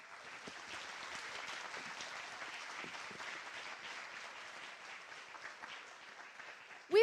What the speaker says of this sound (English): Let's give a round of applause to everyone who participated.